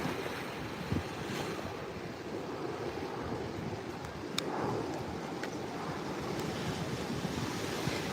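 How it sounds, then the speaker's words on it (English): Ocean waves surge and wash continuously, a loud broadband roar with wind buffeting the microphone, some brief clicks and no speech. "Can you guys hear me over all the waves?"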